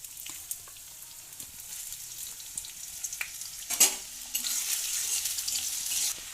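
Chopped onion hitting hot mustard oil in a pan for an egg and potato cutlet mix, a low steady sizzle that bursts louder near the middle and then stays a brighter, fuller crackle to the end, with no talking.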